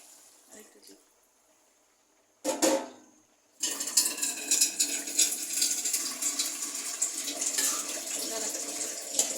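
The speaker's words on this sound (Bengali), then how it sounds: "পানি দিয়ে দিচ্ছি" Water pours steadily into a pan of chicken and chickpea curry with a continuous splashing rush, starting after a short burst and a pause, fairly close.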